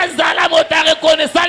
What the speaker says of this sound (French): Même les acclamations, même les cris et joie.